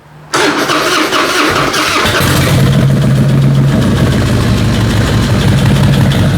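A loud fuel-injected 2005 Harley-Davidson Deluxe motorcycle engine cranks from an ice-cold start and fires up abruptly, then settles into a steady, rumbling idle close by.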